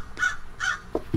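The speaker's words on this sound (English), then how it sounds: "Where's the crow? There it is." A crow caws in the video game Secret Neighbor, two clear, moderately loud caws followed by a couple of shorter, lower croaks, with no talk over them.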